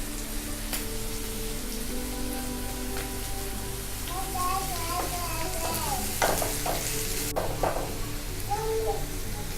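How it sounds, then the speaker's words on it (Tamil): Carrots and other vegetables sauté lightly in a pan for restaurant-style egg fried rice, giving a steady, moderate sizzle with occasional stirring scrapes and a faint voice in the background. "ரொம்ப வேக வேணாம், லேசாக மட்டும் வதங்கட்டும்"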